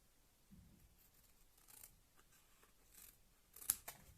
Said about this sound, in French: avec mes ciseaux cette fois, je vais couper mon papier